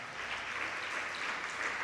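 Audience clapping at a Hindi-language religious discourse by a Jain monk, a steady, distant-sounding wash of applause from many hands with no speech over it.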